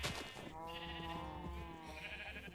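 A sheep in the Minecraft video game gives one drawn-out bleat, clear and up front, lasting a couple of seconds with no talk over it.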